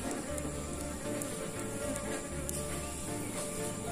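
Apis cerana honey bees hanging in a cluster on a tree give a steady, dense buzzing that fills the scene throughout, close and continuous with no voices over it.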